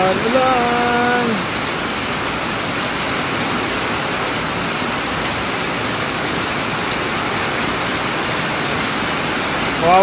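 Heavy rain pours in a dense, steady hiss for the full stretch, loud and unbroken, with a brief tonal sound at the start.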